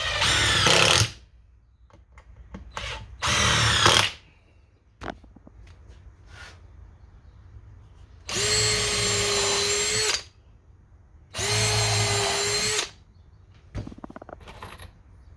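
A power drill drives screws into wood while building wheel cribs, four loud bursts of whirring, the last two longer with a rising pitch as each screw seats, separated by quiet handling noises.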